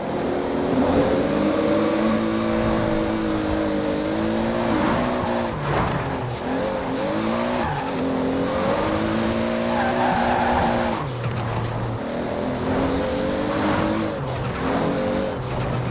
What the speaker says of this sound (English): This is the Toyota AE86, and you can also do a 2JZ swap in this, max upgraded 1600 horsepower.